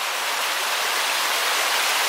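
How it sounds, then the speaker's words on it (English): A clear mountain stream on the Foothills Trail near Burrells Ford, South Carolina, in March, runs close by as a steady, even rush of water with no voices. "just topped off on water for another clear running mountain stream"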